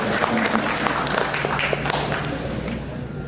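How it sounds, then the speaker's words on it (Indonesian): Seminar audience applauds in a continuous dense patter, moderately loud and close, with a faint voice murmuring underneath. "Tepuk tangan."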